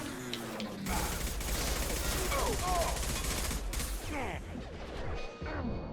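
Gunfire in Mass Effect 2 on Insanity difficulty: bursts of weapon fire and mechanical clatter run steadily through a noisy combat mix, loud and close throughout.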